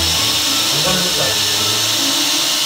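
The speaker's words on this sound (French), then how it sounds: "Est-ce que vous avez déjà été une perceuse sur YouTube" An electric drill runs steadily and loudly for the whole stretch, a continuous whirring drone with voices talking faintly beneath it.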